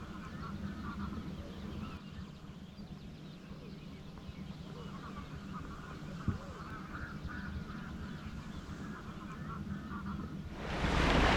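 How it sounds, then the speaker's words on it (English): Geese and eider ducks honk and call softly over a steady low rumble on a calm morning at sea, a chorus of waterfowl in the distance with no one speaking. "All you can hear this morning is the geese and the eider ducks just waking up too with the sun"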